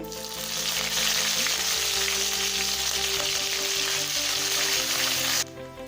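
Curry leaves sizzle loudly in hot oil for a Kumbakonam kadappa, a dense, steady close frying hiss that cuts off near the end, with no talk.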